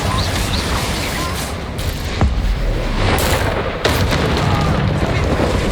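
A Confringo fire spell detonates in Hogwarts Legacy, its loud blast lost in a steady roar of combat noise, with a couple of sharp cracks breaking through.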